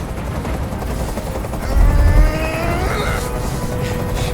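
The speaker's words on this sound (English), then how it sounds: "I can't stand that noise anymore. Tell that helicopter to get out of here." A helicopter in the video game Detroit: Become Human drones with a steady rotor thump under tense game ambience, along with a low rumbling surge midway and a rising whine, with no voices.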